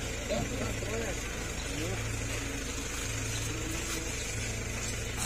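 A motorcycle stored for two years, running without its exhaust pipe or muffler, idles steadily with a continuous low rumble, close by throughout, with faint voices in the background.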